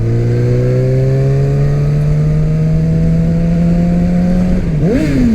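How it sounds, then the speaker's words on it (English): A loud, steady Yamaha R6 motorcycle engine drone echoing in a tunnel, its pitch slowly rising, then dipping and climbing sharply near the end as it revs. "Tunnel exhaust."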